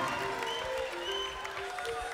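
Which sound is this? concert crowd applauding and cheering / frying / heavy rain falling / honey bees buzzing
concert crowd applauding and cheering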